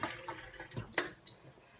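Water is trickled from close by onto aloe vera seeds in a propagator, giving faint, irregular splashes and drips at low volume.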